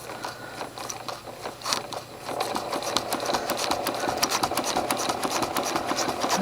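A sewing machine free-motion quilts around appliqued leaves, its quick, even needle rhythm starting softly, then picking up into a steady, close chatter after a short lull.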